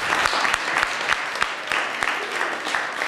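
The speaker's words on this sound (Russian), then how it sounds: "И вам за это огромное спасибо и аплодисменты." Steady applause from an audience at a school graduation ceremony, many hands clapping densely and continuously at a moderate level with no voices over it.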